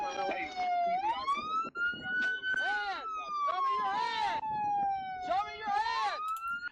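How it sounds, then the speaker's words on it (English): A police car siren wails, rising and falling in long sweeps, loud and continuous, with muffled voices and movement underneath. "Your siren's on."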